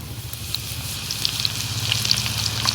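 Ginger and garlic paste sizzles and crackles in a hot pan of oil for village-style saag, a steady close frying hiss with sharp pops that grows slightly louder.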